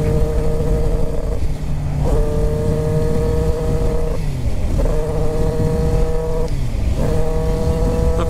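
A motorcycle engine revs up repeatedly nearby, climbing in pitch with each throttle pull and dropping back between roughly three rising bursts, loud and without talk.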